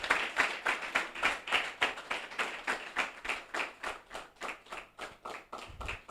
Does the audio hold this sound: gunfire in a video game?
no